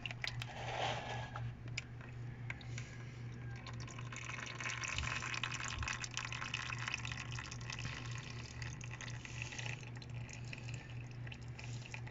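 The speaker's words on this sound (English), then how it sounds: "Open it up just a little and let some oil drain." A steady stream of motor oil draining from a 1999 Toyota Corolla engine, pouring and trickling, continuous and fairly faint, over a low humming drone.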